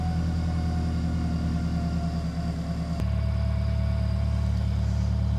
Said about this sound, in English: the exhaust doesn't sound too bad